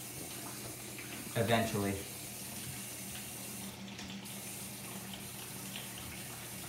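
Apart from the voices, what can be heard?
water heater filling up with running water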